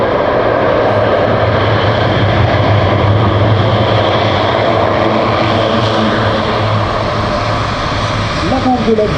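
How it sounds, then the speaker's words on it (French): An Airbus A400M four-engine turboprop landing during a tactical display at Salon de Provence air base, with thrust reversers on all four engines producing a loud, steady, broadband roar that holds throughout at close range. "les inverseurs de poussée des 4 moteurs qui génèrent un bruit très caractéristique à l'issue de l'atterrissage"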